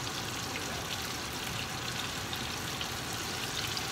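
Breaded chicken fingers frying in hot oil, a dense, even sizzle and crackle of bubbling that holds steady at moderate level from start to finish, with no talking over it.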